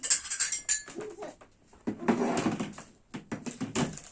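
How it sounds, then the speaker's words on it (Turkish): A ceramic plate clinks and knocks as it is taken out and set down in a home kitchen, a few close, light clatters with cupboard-like bumps between quiet pauses. "Önce bir tabak alalım şurada. Hemen tabak."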